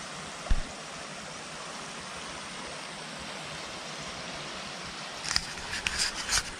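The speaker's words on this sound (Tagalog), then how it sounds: "Ito yata yung kung tawagin ay Lagaslas River. Ganda ng tubig oh." Water of the Lagaslas River rushes in a steady, loud broadband wash, with a few splashy bursts and knocks near the end.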